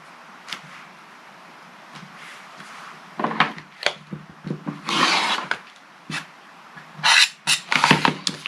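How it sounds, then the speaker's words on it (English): A rotary cutter slices excess fabric from quilt strips against a ruler in a series of short, close scraping and rustling strokes, with quiet handling noises between cuts. "now I'm going to trim that excess away, if I can find my ruler"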